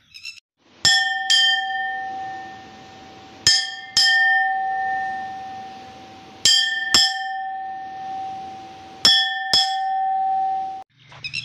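A brass Garuda hand bell is rung during worship in four separate bursts. Each burst gives a few bright strikes that leave a clear, long ringing tone, and the bell sounds close and loud with nothing else heard.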